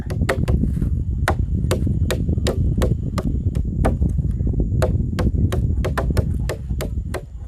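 A stake being hammered into the ground outdoors with rapid, steady, sharp blows repeating over a continuous rumbling background.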